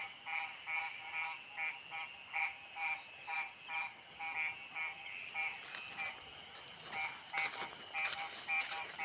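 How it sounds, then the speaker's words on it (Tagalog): A chorus of frogs croaks in steady repeating pulses, loud and continuous, with a few sharp clicks over a constant high insect-like drone, on a dark forest road beside flooded fields. "Iingay ng palaka ah."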